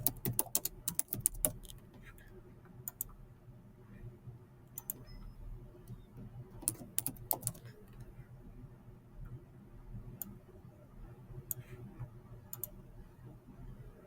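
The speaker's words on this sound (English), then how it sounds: "and type in the name." Someone types on a computer keyboard, with scattered bursts of quick key clicks separated by quiet pauses, close and fairly faint against a low room hum.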